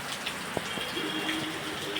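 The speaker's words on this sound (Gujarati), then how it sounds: "આજે શાંતિથી વરસાદ વસાવી રહ્યા છે ભગવાન" Soft, steady rain falls in a quiet patter with scattered faint drops, a calm, even wash of sound with no voices.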